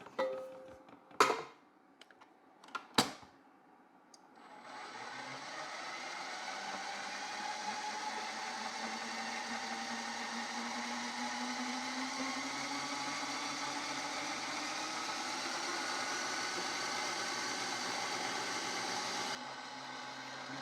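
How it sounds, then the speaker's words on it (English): After two sharp knocks, an Ooni Halo Pro spiral mixer motor starts and runs steadily with a whirring, slightly squealing belt hum for about fifteen seconds before cutting off. "There's definitely a belt noise"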